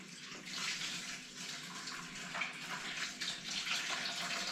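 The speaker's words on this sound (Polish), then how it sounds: "Trzeba je namoczyć. Ciepła woda, około 30 stopni." Warm tap water, around 30 degrees, running to soak sausage casings, a steady close rushing splash into a basin lasting several seconds, with no speech.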